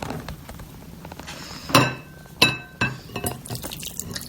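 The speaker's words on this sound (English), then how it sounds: "So we're going to pour it into the vinegar into this little bowl" Vinegar and an egg poured into a small bowl give a short liquid splash and trickle with a few bright glassy clinks, close and fairly loud, followed by quieter drips.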